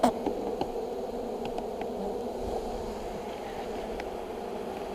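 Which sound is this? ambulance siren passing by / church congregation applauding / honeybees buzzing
honeybees buzzing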